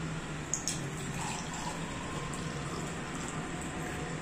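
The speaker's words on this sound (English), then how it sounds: "Now I am pouring some water in it." Water pours steadily into a container holding a coin for a physics demonstration, a continuous close splashing hiss with a small clink at the start and no voices.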